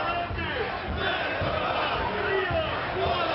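A large crowd at a nationalist torchlight procession in a city square roars and chants in steady, massed cheering, with a continuous dense wall of voices filling the whole stretch.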